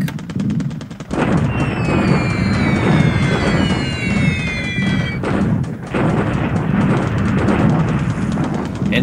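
Anti-aircraft flak and explosions rattle through a port strike in the War in the Pacific strategy game, a dense, loud barrage of thuds and bursts after a brief opening pause, with whistling tones sliding across it.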